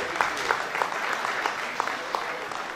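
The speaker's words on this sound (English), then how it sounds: "please put your hands together and give him a big round of applause" Applause at a celebration-of-life gathering, a dense, fairly close wash of clapping with a few louder individual claps poking through, steady for a few seconds.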